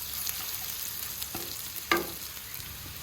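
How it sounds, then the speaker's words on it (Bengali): Chopped green chilies frying in oil in a pan with cooked greens, giving a faint steady sizzle with a couple of brief louder crackles and stirring scrapes. "এটা ভেজে নিই একটু। এবারে এর মধ্যে দিয়ে দিচ্ছি অল্প কয়টা কাঁচা লঙ্কা"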